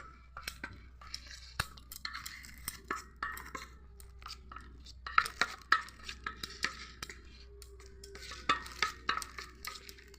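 Flour batter being stirred with water for doodh bhaja, a spoon clinking and scraping against the bowl in quick irregular strokes, close and fairly quiet with no talk.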